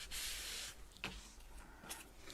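Paper being rubbed down onto a collage cover, a soft dry rasping stroke followed by a few lighter brushing rubs, close and quiet with no talking.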